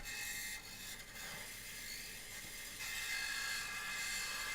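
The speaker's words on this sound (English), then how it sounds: "Just using a parting tool to make a tenon." Wood lathe parting tool cutting a tenon on a bowl blank, giving a steady close scraping hiss with brief dips and a louder stretch toward the end.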